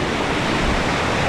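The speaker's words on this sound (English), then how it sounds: "Water coming out of it right there." Water pouring from a natural rock ledge beside a small class 2 rapid on Battle Creek, California, giving a steady, close, full-band rush with no voices.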